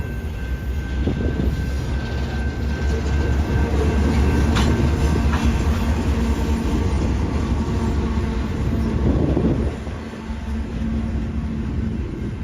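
A freight train rolls past with a battered Kansas City Southern (KCS) locomotive unit, giving a loud, steady rumble with rail noise and faint clicks of wheels on track. The sound stays close and continuous for the whole stretch, with no voices.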